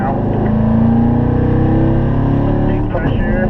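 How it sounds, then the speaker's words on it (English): A Corvette engine pulls hard through the gears on a track at a driving school, a loud, steady drone with rising harmonics that shifts near the end, heard close from inside the car. "Revving it up to fourth gear now"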